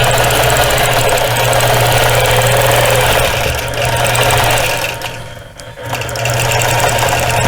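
Sewing machine quilting a feather pattern on a quilt block, a loud close rapid mechanical hum and knock running steadily, easing briefly near the end before resuming, with no talk.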